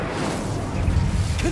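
Incendio fire spell cast in Hogwarts Legacy, a short rushing whoosh of flame with a crackling burst, loud and close, over a busy game soundscape.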